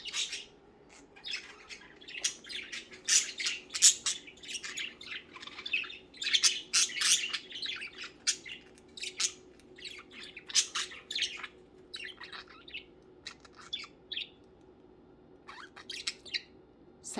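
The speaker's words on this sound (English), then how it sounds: "Don't sing to Lucy. She doesn't want to hear your song" Budgies chirp and squawk indoors in quick, scattered bursts of shrill calls and chatter that run irregularly throughout, close to moderately near over a faint low hum.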